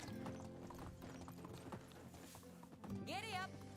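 Horse hooves clip-clop in a steady rhythm while riding in the medieval life-sim game Medieval Dynasty, and a short whinny rises near the end.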